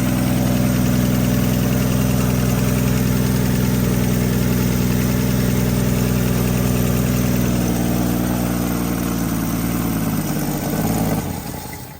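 A 1961 Plymouth Valiant six-cylinder engine from a parts car, running steadily on all cylinders at a loud, close idle with a constant low rumble, then cutting off near the end.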